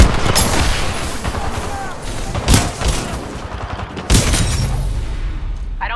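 Rapid gunfire and heavy blasts in the video game Titanfall 2, loud dense bursts with a couple of sharp booming impacts, voices faintly present under the combat.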